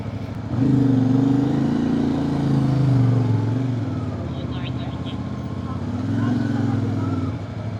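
Road traffic on a busy mountain road near a crowded viewpoint on the Mt. Olis ridge, with engines swelling past in two loud waves and a quieter stretch between.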